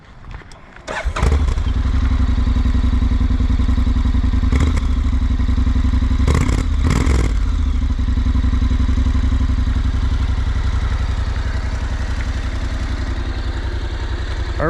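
A 2023 Honda NC750X motorcycle engine cranks and fires, then settles into a steady, deep exhaust rumble at idle, close and loud, with a few brief clicks and knocks over the running engine.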